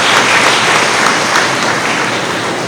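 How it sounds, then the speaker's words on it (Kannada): Loud, dense applause fills a student orientation hall, a continuous roar of many clapping hands held evenly throughout the short stretch, with no speech over it. "ಒಮ್ಮೆ ಜೋರಾದ ಚಪ್ಪಾಳೆಯ ಮೂಲಕ ನಮ್ಮೆಲ್ಲ ಮಕ್ಕಳನ್ನು ಅಭಿನಂದಿಸಬೇಕು"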